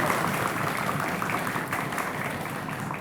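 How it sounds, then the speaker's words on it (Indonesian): Applause for the jury at a high-school quick-answer quiz competition in Palembang, a steady, dense clapping from a seated audience filling the hall with no breaks. "tepuk tangan tentunya buat Dewan Juri kita."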